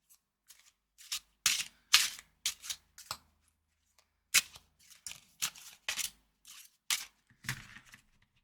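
A series of short, crisp card snaps and flicks in an irregular rhythm, close and fairly quiet, as a flexible tarot deck is shuffled and cut by hand.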